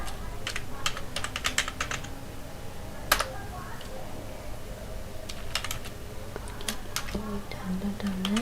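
Computer keyboard typing with fast, close key clicks in bursts and short pauses, set over low room noise as a voice talks softly at moments.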